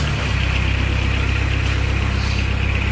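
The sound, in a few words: Kubota diesel engine starting on a 2014 Moffett M55 forklift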